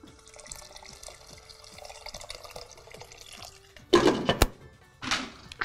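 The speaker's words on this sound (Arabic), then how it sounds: "انا هزود حبه ميه كمان" Water poured into a cooking pot of boiling chicken spiced with mastic, cardamom and cinnamon sticks, heard as a loud close splashing burst after quiet simmering and dripping, followed by a second shorter pour.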